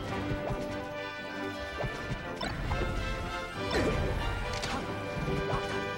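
Fighting-game impacts from a Super Smash Bros. Melee match between Falco and Fox, including an up smash attack: sharp smacks and crashing hits over steady background crowd ambience, moderately loud.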